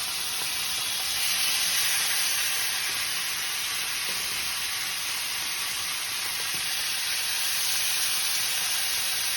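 Chicken thighs sear in a hot pan with a loud, dense, continuous sizzle and hiss that holds steady from start to finish, with no talking.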